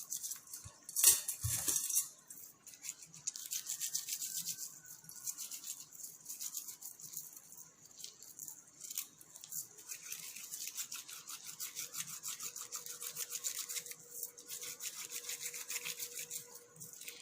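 Gold jewelry scrubbed in water with a fruit peel gives a continuous close, rhythmic brushing rub, soft and steady, after a brief clink at the start.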